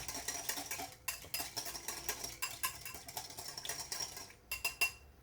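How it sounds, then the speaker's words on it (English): Whisk clinking steadily against a bowl while blending vinaigrette salad dressing before the olive oil goes in, rapid close metallic strokes with a few brief pauses. "we want to just whisk this, just to blend it together"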